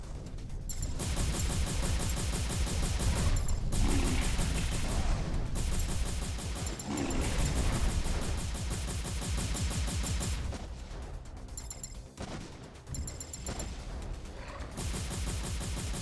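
Mecha gunfire in the M.A.S.S. Builder demo against aliens: loud, continuous bursts of rapid shooting and blasts across the whole stretch, with brief dips in the intensity partway through.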